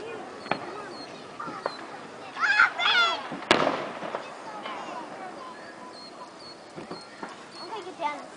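Fireworks exploding at a New Lexington display, with one sharp loud bang and scattered crackles amid crowd noise, while adults and children talk nearby throughout.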